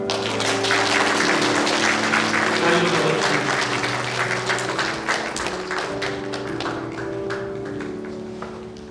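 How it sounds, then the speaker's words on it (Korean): A church congregation breaks into loud sustained applause during a worship service, dense clapping with individual sharp claps standing out, gradually easing off over a faint background tone. "큰 박수로 박수해 주시면 감사하겠습니다"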